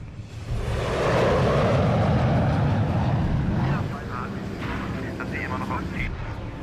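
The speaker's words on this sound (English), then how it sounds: "It's a goddamn Nazi plane." A plane passes overhead in a movie scene, a loud rushing roar that swells and then eases off, while people talk beneath it.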